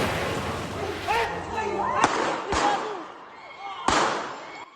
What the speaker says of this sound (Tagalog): Tatlong putok na baril ang narinig sa cellphone video ng isang residente